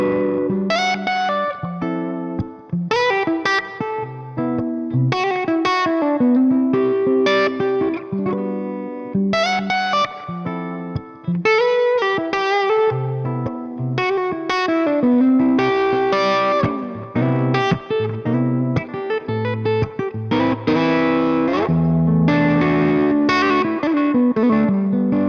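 A clean-toned electric guitar, a vintage 1961 Gibson ES-345 with original PAF pickups through a TC Electronic compressor and amp spring reverb, plays chords and melodic lines with a compressed, even attack and a splashy spring reverb tail, loud and close.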